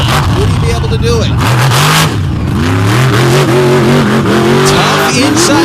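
Swamp buggy race engine roaring and revving loudly as the buggy speeds through mud around an inside turn, pitch rising and falling, with a commentator talking over it.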